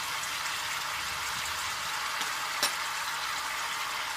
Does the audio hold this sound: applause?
no